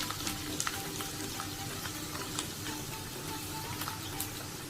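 Garlic, ginger and green chilli sautéing in a pan for a prawn pickle, giving a steady close sizzle with light stirring scrapes and small crackles throughout.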